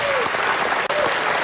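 A West Virginia crowd applauds loudly and continuously, a dense wash of clapping filling the whole brief moment.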